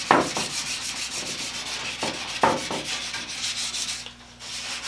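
Light sanding to take burrs off a wooden picture frame, a series of soft, short abrasive rubbing strokes spaced unevenly, close to the microphone with no voices.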